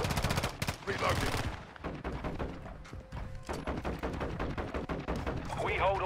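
Lachmann 556 assault rifle fire in Modern Warfare II, loud close bursts of rapid automatic shots separated by short pauses, with game voices talking over parts of it.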